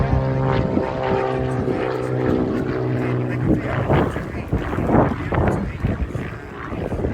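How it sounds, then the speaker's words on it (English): Pitts Special aerobatic propeller plane at the AERO Gatineau-Ottawa Airshow, its engine droning steadily with a sustained tonal hum, blended with crowd and wind noise and a public-address announcer talking over it. "his special new Pit Special aircraft"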